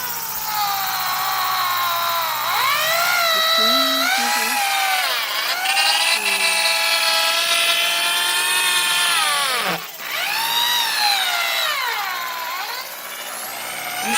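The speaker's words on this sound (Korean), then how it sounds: "전기 그 드릴로 바닥에 있는 거 구석구석 교반을 잘 해야 덩어리가 잘 떼어진다고 하니까" An electric drill whirs loudly and steadily as it stirs a homemade oil mixture in a container, its pitch rising and falling as it works the bottom and corners, with a brief dip near the end; no talk.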